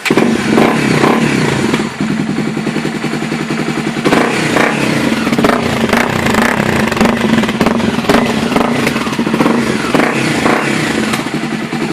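A Honda XRE 300 motorcycle fitted with a Coyote 2-way exhaust with handlebar adjustment revs loudly and continuously up close, its engine rumbling and crackling throughout.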